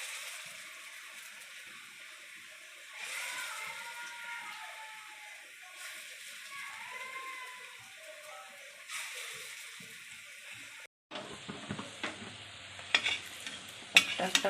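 Masoor dal bori frying in a pan for a Bengali echor dish, a steady soft sizzle with occasional stirring and scraping, closer clattering and bumps near the end, no talking.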